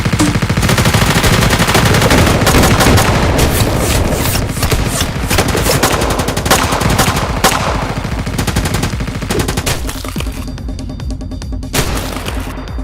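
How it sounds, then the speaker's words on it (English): Heavy Barrett .50 caliber rifle fire in a video game fight scene, dense loud repeated shots and booms blending with a busy game soundscape, thinning out toward the end. "so this is basically a Barrett 50 cal"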